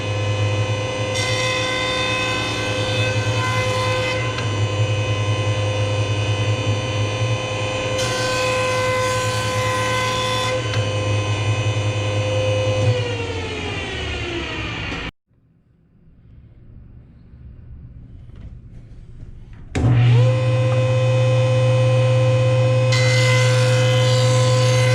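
A woodworking jointer runs with a loud, steady motor whine, then coasts down and stops around mid-clip. After several seconds of near silence it starts up again at full speed.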